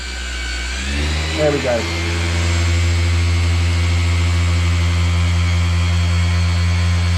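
A car polishing machine runs on automotive paint, its motor whining and rising as it is cranked from speed 3 up to speed 4 and then holding a steady drone, with someone talking over it.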